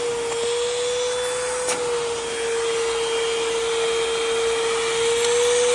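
Secondhand thrift-store vacuum cleaner with a clogged hose running steadily, a strained, constant whine and airy rush held close and unchanging for several seconds.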